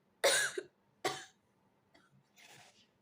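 Two sharp dry coughs sound up close in quick succession, followed by a softer throat-clearing rasp trailing off into quiet.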